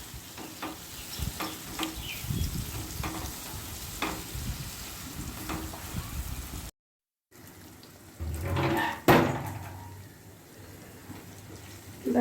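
Tomato paste is added to a pan of cooked-down spice masala and fries with a steady low sizzle and scraping stirs, swelling into a louder hiss and clatter as it lands in the hot pan.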